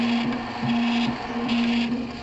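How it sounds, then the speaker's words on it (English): RepRap Prusa 3D printer running with a remote extruder, giving a steady motor hum with a fixed low whine and small rhythmic shifts as the print head moves, close and alone. "And it is printing."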